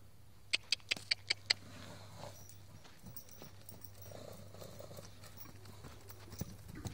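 A horse's hooves clop in a quick burst of about five sharp, distinct hoofbeats, then fade to faint ambient noise with a few soft steps near the end.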